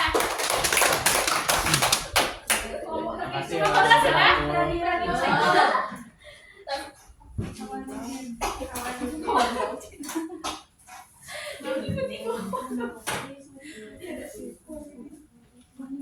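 Students in a classroom applaud a presenting group with a burst of dense clapping that fades into scattered claps, mixed with chuckles and people talking.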